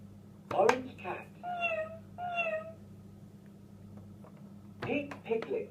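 A toy cat gives out a few electronic meows, two drawn-out calls close together and another pair a moment later, loud and near against a faint background hum.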